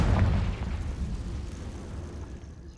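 A Confringo blasting spell explodes in Hogwarts Legacy, a loud booming burst at the start that rumbles and slowly fades over a couple of seconds, with no talking.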